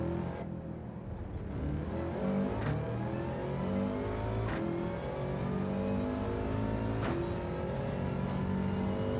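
A racing car accelerating in the Gran Turismo video game on the Deep Forest track, its engine revving steadily and climbing in pitch with several quick gear changes, loud and continuous throughout.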